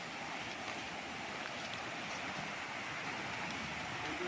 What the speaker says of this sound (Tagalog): Tingnan natin ang ilog. Dinig na dinig nyo yung lagas-lasong.